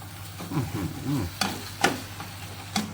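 Pork neck being stirred in a frying pan, sizzling under several sharp scraping strokes of a utensil at close range, with no talk.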